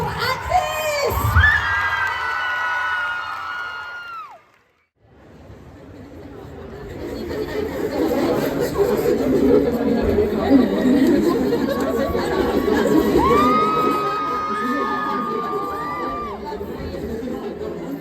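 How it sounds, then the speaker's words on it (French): Crowd at a K-pop dance show at the Animasia convention, cheering, shouting and chattering; loud whoops open, a brief near-silent gap follows, then a swelling wash of excited voices and calls returns and stays strong. "Je vous demande un tonnerre d'applaudissements, s'il vous plaît, pour Atis!"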